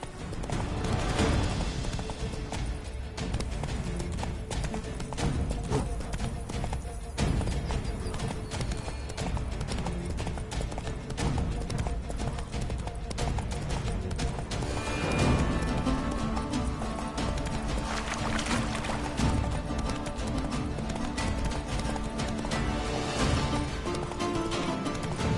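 Roach the horse gallops in The Witcher video game, a dense, fast clip-clop of hooves that keeps going for the whole stretch at steady loudness, with game ambience underneath and no speech.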